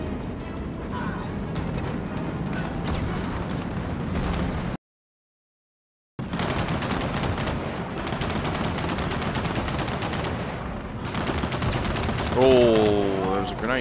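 Gunfire in Gears of War 4 on the Insane co-op campaign comes as dense, rapid machine-gun bursts that are loud and continuous, broken by a short silent gap, with mechanical whirring near the end.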